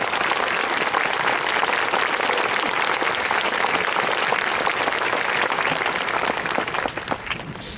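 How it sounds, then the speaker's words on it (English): Audience applause at a Marine Corps recruit graduation ceremony at Parris Island: a sustained, thick wash of clapping from a large crowd that tapers slightly near the end. "please join me in a round of applause for our recruiters"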